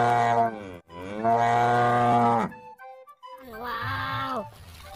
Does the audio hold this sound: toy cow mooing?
yes